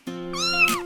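A kitten lets out a single clear, drawn-out meow, close and fairly loud, rising then falling in pitch, on its own with nothing behind it.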